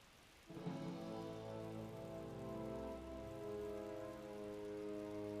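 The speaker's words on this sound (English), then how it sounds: "All you can hear is just the rain." Steady rain falls through a forest in Final Fantasy XII, a continuous wash of patter that begins with a short rise and then holds at a constant level. A layer of sustained game music tones sits alongside it, and no one speaks.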